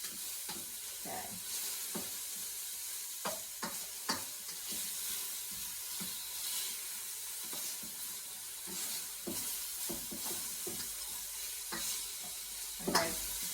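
Turkey strips stir-frying in a pan for a garlic turkey stir fry: a soft, steady sizzle broken by repeated scraping and clattering strokes of a utensil against the pan, quiet and close, with no talking.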